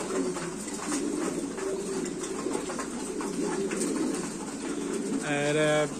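A pair of Qalmon gaditano pigeons in a pigeon house cooing softly against a steady background hum, with a louder, clearer coo near the end.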